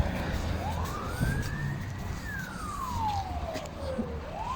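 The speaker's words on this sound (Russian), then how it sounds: "Что это сирена вообще?" Emergency siren wailing in a city-centre street in Yakutsk, a rising and falling tone sweeping up and down, moderately distant over traffic noise.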